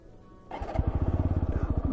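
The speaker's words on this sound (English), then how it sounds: "Let me turn on the engine." A TVS Apache 160 4V motorcycle starts with a brief electric crank and catches into a steady, close, rhythmic single-cylinder idle with even pulsing throb, heard alone without talk.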